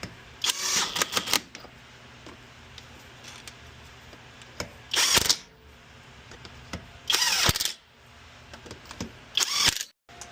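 Bolts on a 1977 Porsche 911 ball joint are run in with a ratchet in short bursts of rapid, rattling clicks, four distinct runs separated by quiet pauses, close and fairly loud.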